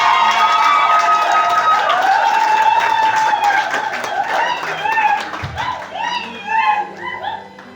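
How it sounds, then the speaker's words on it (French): Guests at a civil wedding ceremony cheer with rising, wavering voices and scattered clapping. The crowd sounds close and lively, and the cheering swells in bursts toward the end. "Une acclamation, s'il vous plaît."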